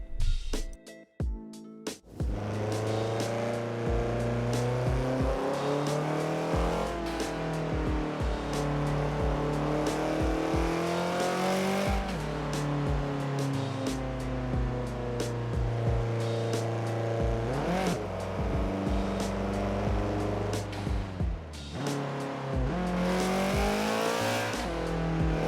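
A Nissan Skyline R33 GT-R cruises with a loud, steady engine drone that rises and falls through gear changes, heard close and continuously with no talking.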